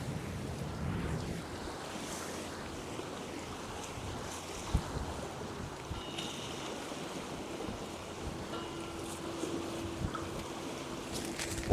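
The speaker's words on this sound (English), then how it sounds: "that wind is picking up as well. It's blowing right into our face northerly at the moment." Steady northerly wind roars across an open sea, buffeting the microphone while waves wash and break continuously underneath, loud and unbroken with no voices.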